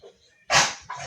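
Indoors, a puppy gives a single loud, close bark after a short quiet stretch, then a second fainter yip just before the end.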